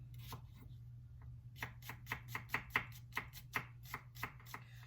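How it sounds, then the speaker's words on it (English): Knife finely chopping bruschetta ingredients on a cutting board, a quick run of crisp, evenly spaced chops over a steady low hum, with no voices. "Go ahead and finely chop them."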